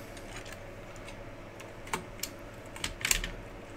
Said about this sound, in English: So my suggestion is that we take all the small keys off first